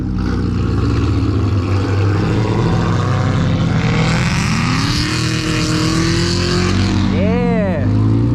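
Audi R8 sports car pulling away from a summer car cruise meet, a loud engine roar with rising and falling revs over a busy crowd of other engines, with people talking nearby.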